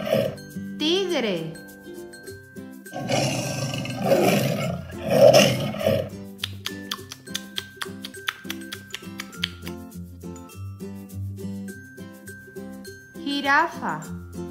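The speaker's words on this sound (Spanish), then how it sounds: "Tigre." A tiger's roar rings out in a children's savanna animal song, a short growling burst over cheerful music, with a voice heard in between.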